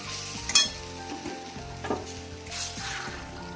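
Hot water is poured into a pan of potato curry that has been frying with spices, raising a constant sizzle and bubbling along with a few sharp clatters and stirring sounds.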